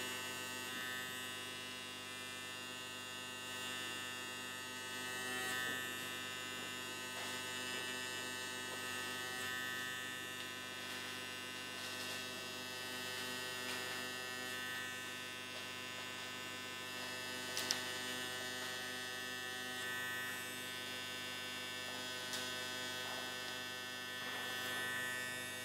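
A Rosa Root mini tattoo pen fitted with a Kwadron needle module runs continuously, a steady close electric buzz with a tonal hum, unbroken for the whole stretch and with no talk.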